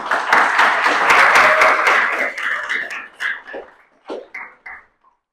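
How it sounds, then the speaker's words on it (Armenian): A school audience applauds its students in a loud burst of crowded clapping that thins out into a few scattered final claps and then falls silent. "Ծափարեք մեր աշակերտներուն"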